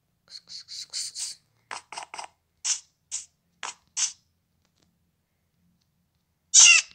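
Cat meows from the video game Minecraft, a quick run of short mews followed by several spaced single meows and one louder, longer meow after a pause, alone against silence.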